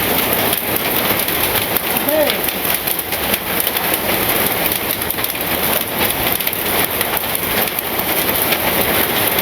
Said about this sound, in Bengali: অনেক ছোট ছোট শিলাবৃষ্টি হইল